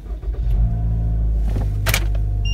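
A car's engine starts and idles at a used car market in Vladivostok, a steady close rumble with a brief whirring burst near the end.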